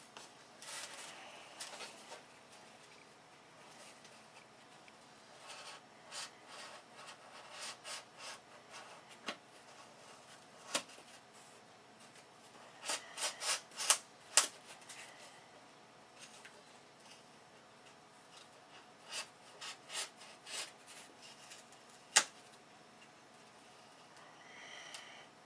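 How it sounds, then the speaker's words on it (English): Faint scraping and rubbing of an X-Acto knife slicing through leather between punched holes on wing tips, with scattered sharp clicks and short strokes, quiet and close, no talking. "we just take an X-Acto knife and connect the lines together"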